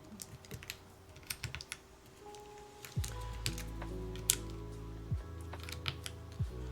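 Typing on a wireless keyboard fitted with GMK Boneyard keycaps, a run of close, crisp key clicks in an uneven rhythm, joined partway through by a steady low hum with sharper clacks on top.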